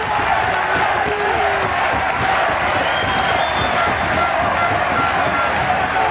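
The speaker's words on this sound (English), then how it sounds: "And suddenly again the crowd has found its voice." A crowd roars steadily at a professional PRO14 rugby union match between Zebre and Cardiff Blues. The broad wash of cheering and shouting fills the whole stretch without a break.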